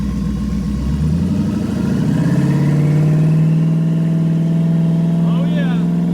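A car launching off the line on a trans brake, engine rumbling and then rising into a loud, building roar, with a brief high squeal near the end.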